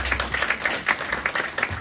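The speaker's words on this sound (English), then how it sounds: "please give a round of applause to single mothers" An audience at a foundation award ceremony gives a short burst of steady clapping and applause for single mothers, close and moderately loud, with no clear talk over it.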